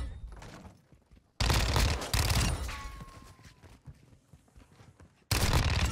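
Shotgun fire in Modern Warfare 2 during a team deathmatch, with loud, booming blasts that cut in abruptly and ring out into a decaying echo, along with other game noise.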